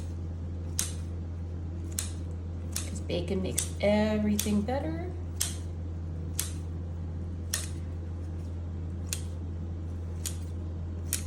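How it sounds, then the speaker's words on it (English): Scissors snip through partly cooked, not-crispy bacon with about a dozen sharp, evenly spaced clicks under a steady low hum, while a person speaks briefly in the middle. "go ahead and chop this with a pair of scissors"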